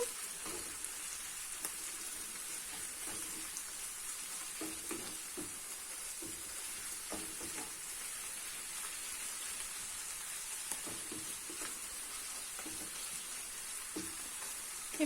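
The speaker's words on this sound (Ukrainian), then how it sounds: "Поки що знову перемішуємо" Hake fish sizzles quietly in a frying pan, with soft scraping and clinking as it is stirred every few seconds, steady and close.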